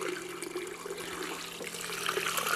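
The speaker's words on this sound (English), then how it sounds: "I fill up the vase" Running water fills a vase for Vanda orchid roots, a steady trickling and splashing close by with a faint hum underneath and no voices.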